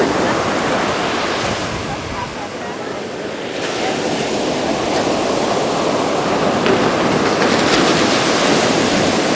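Strong Pacific Ocean waves on a beach roar as steady, loud broadband surf with a windy rush, continuous throughout and without any talking.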